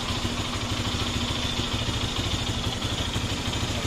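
A Lifan KPX 250 motorcycle with a newly installed oil cooler runs steadily at idle outdoors, a close, continuous low engine rumble with light mechanical clatter and no speech.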